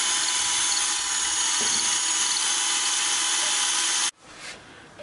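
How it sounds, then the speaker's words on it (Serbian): A hammer drill bores a hole for a wall plug with a loud, steady high-pitched whir for about four seconds, then cuts off abruptly, leaving a brief winding-down rattle. "rupu za tiplu bušimo sa udarnom bušilicom, odnosno sa čekicom"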